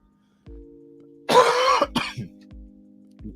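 A burst of harsh coughing with a throat-clearing rasp, loud and close, followed by a couple of shorter coughs over a low steady hum.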